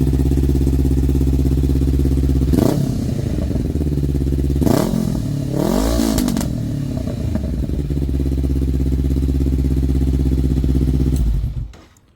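A 2021 Honda CB500F runs with a full decat exhaust, a loud, deep, steady idle broken by a few sharp throttle blips before the engine cuts off near the end.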